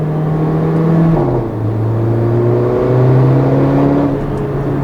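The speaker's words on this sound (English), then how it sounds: "it's not really satisfying to rev this car" Engine of a 2015 Mercedes-Benz GLA 45 AMG, turbocharged, running loud and close with a steady drone that steps between gears, rising and dipping in pitch as it accelerates under load, no voices over it.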